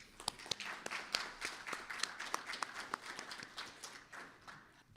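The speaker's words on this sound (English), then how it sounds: "One more round of applause for them." A small audience applauding, with scattered, uneven claps that are fairly quiet and fade out toward the end.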